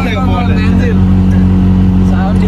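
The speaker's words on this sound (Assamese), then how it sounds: "বাইকখনে মাত দি যায়" A motorbike engine drones steadily and loudly on a mountain road toward Tumjang Peak, a continuous close hum throughout with voices faintly mixed in.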